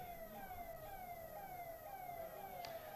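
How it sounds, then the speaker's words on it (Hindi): A siren sweeps steadily downward in pitch across the span, consistent with an ambulance passing along a road in India during a rally, moderately distant and continuous over background crowd and traffic noise, with no talk. "ये एम्बुलेंस है क्या?"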